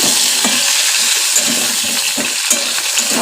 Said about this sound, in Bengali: আলু আর পটল ভাজতে দিয়েছি